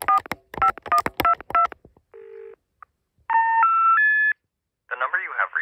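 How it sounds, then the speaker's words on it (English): Telephone keypad tones dialing a number through a microcontroller-based intercept system: a rapid series of close, bright beeps, then a short tone, a three-note rising intercept signal, and a warbling ring. "So let's just call a random 884 number that's not in service."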